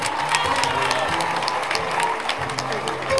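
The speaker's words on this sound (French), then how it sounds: "Applaudissez encore les champions." Audience applause at a university award ceremony marking ten years of excellence prizes, a steady wash of clapping from a crowd that holds at an even level throughout, with music and some background voices underneath.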